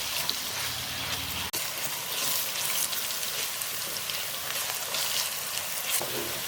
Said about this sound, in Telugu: ఈ అల్లం వెల్లుల్లి పేస్ట్ పచ్చివాసన పోయే వరకు వేయించుకుందాం.